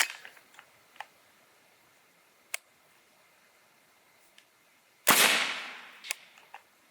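A single sharp crack of a suppressed 300 Blackout rifle shot in the woods, loud and close, with a broad burst that decays over about a second and a half, after a few faint ticks and clicks.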